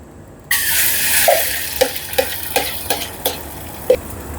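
An egg dropped into an oiled frying pan sets off a sudden, steady sizzle that keeps going, with small pops and crackles scattered through it at close range.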